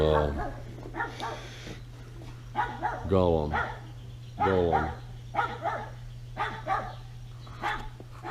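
An old dog barks repeatedly in short, loud bursts with yips and whimpers between them, over a steady low machine hum, while a person talks briefly.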